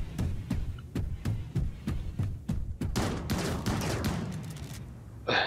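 Charge rifle gunfire in the RimWorld video game: a steady series of sharp shots at regular intervals over a low throb, then a denser burst of crackling fire, with a final loud hit at the end.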